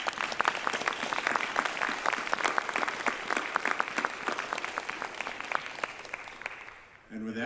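An audience at a space-lifesaving conference session claps for panelists and lecturers, with dense, sustained applause that fades near the end.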